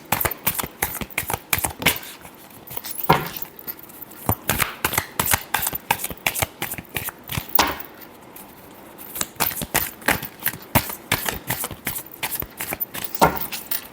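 Tarot cards being shuffled by hand in steady rapid bursts of crisp riffling and slapping, close and loud throughout, with no talking.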